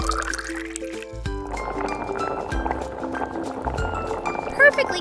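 Water pours in a steady running trickle while miniature octopus balls are made, with light gurgling and dripping beneath music, and a brief splash near the end.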